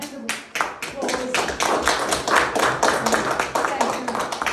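A small panel audience claps with separate, distinct hand claps that are close and lively and carry through the whole stretch, with some voices mixed in.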